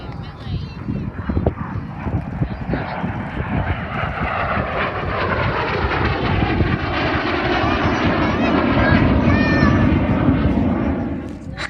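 A Saab 37 Viggen jet at the 2019 Southport Airshow fills the air with a broad, steady roar that swells louder toward the end of its pass.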